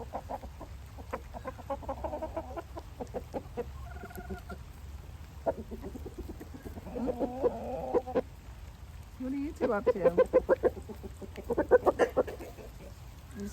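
Free-ranging roosters cluck and murmur nearby in the rain, soft repeated clucks growing busier toward the end over a steady patter of rainfall, while a person speaks briefly.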